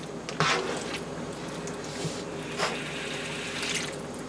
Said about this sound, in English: That also rinses your can of tomato sauce out to get the rest of the sauce out.